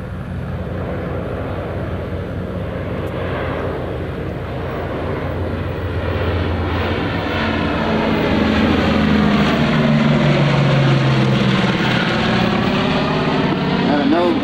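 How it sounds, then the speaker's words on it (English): AD-4 Skyraider propeller plane makes a loud, close pass over an airfield at a World War II weekend air show, its radial engine droning and rising to a sweeping Doppler roar while an announcer talks over it. "Another beautiful speed by the Skyraider, giving us a great example of how that technology was able to develop."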